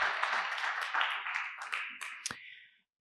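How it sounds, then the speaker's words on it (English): Applause from a small audience on the floor at a Tuesday museum talk, a dense patter of clapping that thins out and fades to silence after a couple of seconds. "Round of applause."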